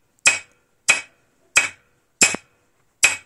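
A metal spike punches holes in dry giant miscanthus stalks: five sharp, crisp cracks spaced evenly about two-thirds of a second apart, close and alone against silence.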